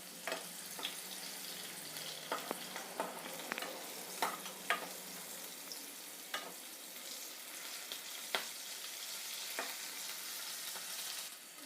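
Bitter gourd frying in a pan, with a constant hissing sizzle and a run of scattered clinks and scrapes as a spatula stirs it now and then, close and fairly quiet.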